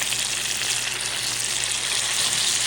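A steak sizzles loudly and steadily in a frying pan with butter as it is flipped, a dense, close frying hiss that continues throughout with no talk.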